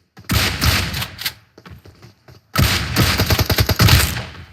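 Automatic gunfire in PUBG Mobile: two loud, close bursts of rapid shots, the second longer and more staccato, separated by a short lull with faint scattered pops.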